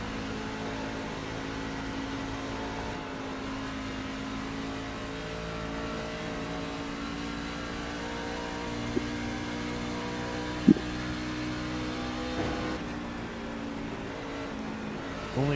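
Race cars circling the track at Homestead-Miami Speedway, a steady droning engine roar that holds throughout, with a brief sharp click near the middle and no talk.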